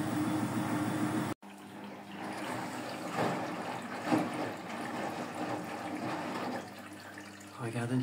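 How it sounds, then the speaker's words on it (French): Washing machine running its first rinse with Bonux hand-wash powder: water sloshing and trickling through the drum in a steady wash of noise after a short break, close and moderately loud, with no talk. "Regardez déjà le premier rinçage."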